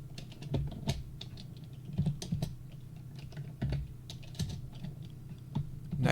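A computer keyboard clatters under steady, fairly close typing in irregular bursts as a command is entered into AutoCAD, with a low background hum and no voice.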